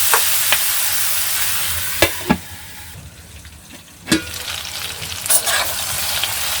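Kochur loti, taro stolons, cooking in a pan on low heat, a continuous close sizzle broken by several sharp scraping clacks of a stirring spoon, dipping quieter midway before building again, with no talking.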